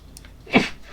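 One short, close sneeze, a quick breathy burst that stands alone against quiet room tone.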